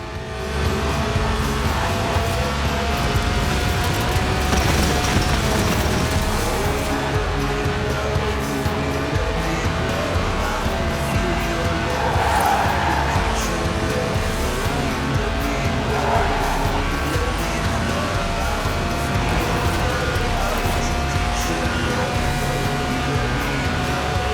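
A lightweight Lotus with a 1.8-litre, 190-horsepower engine revving toward 8,000 RPM in the racing game Forza Horizon 4, a steady, loud, continuous engine drone filling the whole stretch, with no voices.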